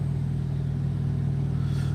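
A truck backing up at a busy truck stop, its engine giving a steady, loud low rumble with a constant drone throughout and no break in the sound.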